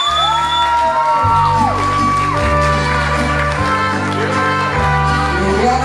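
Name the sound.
applause and cheering at quinceañera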